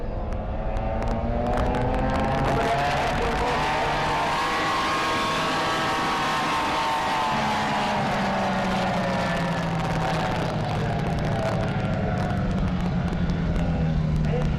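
A pro mod drag racer roars through an 800-foot sprint at about 102 mph, its engine note climbing loudly and then falling away across a noisy event backdrop, with an announcer's voice mixed in.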